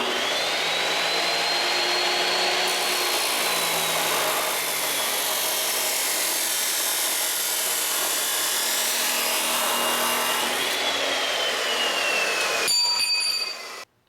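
Steel tubing being cut and bent with a pipe bender for a dune buggy frame, a steady loud grinding, rubbing roar lasting about thirteen seconds with shifting pitch, ending in a brief rattle and sudden stop.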